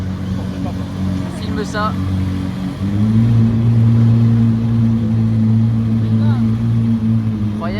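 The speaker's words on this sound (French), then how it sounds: "la Senna GTR vient de démarrer" A McLaren Senna GTR hypercar starts up at the Brussels Auto Show, its engine settling into a loud, steady idle with a deeper rise partway through, while people talk nearby.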